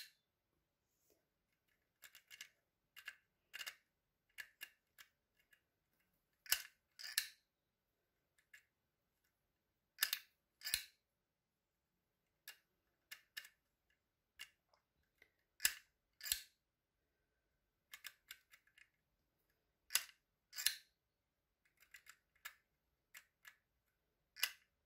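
An Action-brand label maker embosses a word letter by letter, giving sharp, close clicks and snaps in irregular bursts separated by short pauses, alone in a quiet room.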